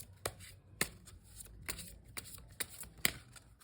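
Tarot cards being shuffled in a quiet room, a run of crisp riffling bursts and soft slaps recurring every half second or so, close and clear with no talking.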